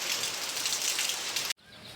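Steady heavy rain pours down onto an open rooftop, a dense hiss that holds for about a second and a half before cutting off abruptly, then continuing more softly.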